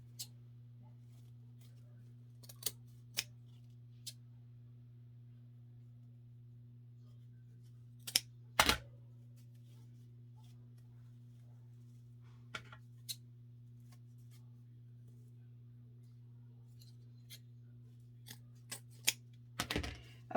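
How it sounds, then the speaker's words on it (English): Scissors snip while a ribbon-trimmed wreath is being made: a handful of sharp, brief cuts scattered irregularly over a steady low electrical hum, fairly quiet and close. "Oops, wrong scissors."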